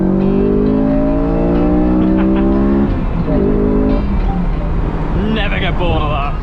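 A Honda S2000 engine with the airbox lid removed revs up through its crossover, a strong rising drone that holds loud and close, while a voice talks over it.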